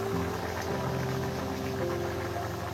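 Steady low bubbling and rumble from a pot of lentils and vegetables boiling on the stove, a continuous even simmer with a faint hum beneath, no voices.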